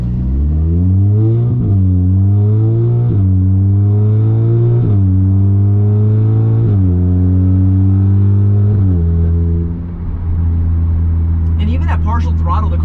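Big-turbo Audi S3 fitted with an EQT Vortex XL turbo accelerating at partial throttle, its loud engine note rising steadily through several gears with clear shift dips, close and continuous, with a brief spray of higher noise near the end.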